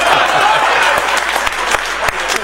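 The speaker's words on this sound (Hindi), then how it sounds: "और तुम लोग ताली भी बजाना" An audience claps at a Hindi poetry reading, dense steady applause from a crowd with a few sharper individual claps near the end, loud and close.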